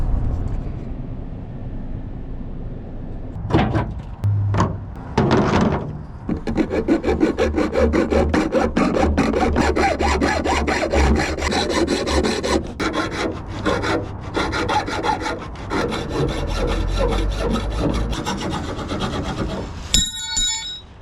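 Loud, sustained rasping grind of a power tool cutting down a metal channel on a job site, starting with a few short bursts and then running steadily for about fifteen seconds before stopping.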